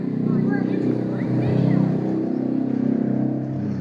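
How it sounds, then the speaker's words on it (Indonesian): A motorcycle engine drones steadily nearby, its low rumble running under people talking throughout. "Suara motor."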